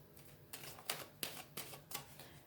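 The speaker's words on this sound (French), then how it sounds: "on va aller mettre des cartes supplémentaires" Tarot cards laid down one after another on a table, giving a run of about five soft slapping and shuffling snaps at a steady pace, close and fairly quiet with no talk.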